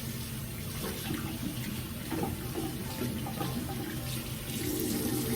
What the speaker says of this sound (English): So removing that foam wash with lukewarm to hot water.